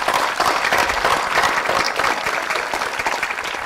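A crowd at an outdoor Memorial Day parade ceremony in Hubbardston applauds steadily and warmly, a dense wash of many hands clapping that carries through without a break.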